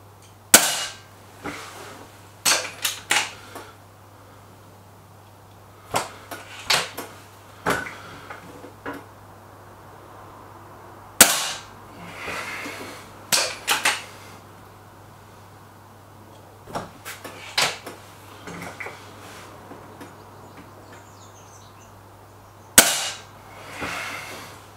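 An air rifle fires .22 JSB pellets, producing sharp, isolated cracks spaced several seconds apart, each followed by brief clicks and handling noises, close and distinct against a quiet background hum.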